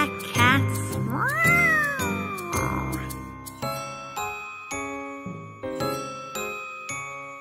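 Cartoon cat meows in a Halloween song about three black cats, one long sliding meow standing out near the start, followed by bright chiming bell-like notes in a steady rhythm.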